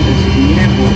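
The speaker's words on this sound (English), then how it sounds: "And all 4 engines are now running" Four jet engines of a Boeing 747 running in a home-cockpit flight simulator, a steady loud broadband roar with a low hum, continuous throughout.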